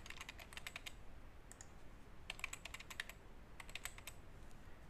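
Typing on a computer keyboard while entering a password: quick bursts of light key clicks separated by short pauses, close and fairly quiet over a faint room hiss.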